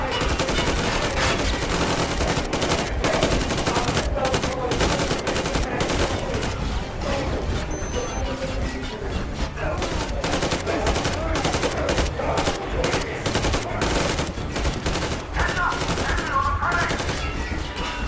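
Sustained, dense gunfire fills a firefight in the video game Metro Exodus, set in Moscow, with rapid automatic bursts running nearly nonstop at close range and shouted voices mixed in.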